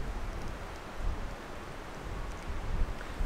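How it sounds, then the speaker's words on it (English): Continuous wind noise rumbling over the microphone on open moorland, a dense low buffeting that swells slightly a couple of times. "It's quite windy."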